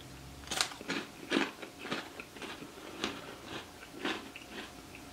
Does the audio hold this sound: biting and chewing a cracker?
yes